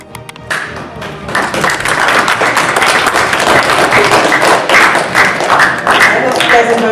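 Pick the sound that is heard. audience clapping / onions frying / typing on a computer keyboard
audience clapping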